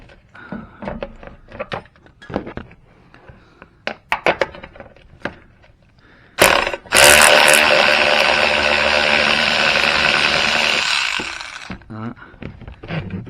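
Ratchet working a 15 mm nut off a Ford F150 during bumper removal, a dense, steady whirring clatter lasting several seconds at close range after a run of scattered clicks and knocks.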